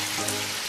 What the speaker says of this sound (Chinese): 然后给它反复煸炒